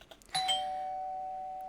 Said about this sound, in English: You wake up to the sound of the doorbell